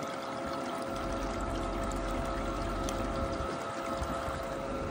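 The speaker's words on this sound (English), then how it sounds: "as the tailings drum fills up, the water level then forces the water back to the pump drum through these siphon hoses" Water circulates through siphon hoses from a filling tailings drum back to the pump drum of gold mining equipment, a steady, loud, continuous rush and gurgle with faint mechanical rattling and no talk.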